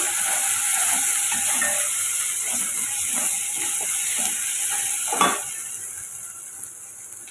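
Onions with ginger garlic paste sizzle in a pan as they are sautéed, a constant bright hiss with faint stirring scrapes and one brief clatter, with no talk.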